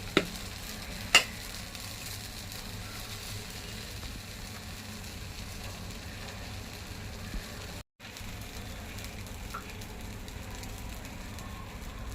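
Rava aamboli batter cooks on a hot tawa, giving a constant soft sizzle and hiss that holds steady, with a few faint clinks at the start and a brief gap near the end.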